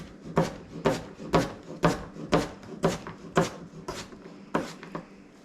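A knife cutting potatoes and vegetables into thin quarters and slices on a wooden board, about ten evenly spaced crisp chops at a brisk, steady rhythm, close and clear.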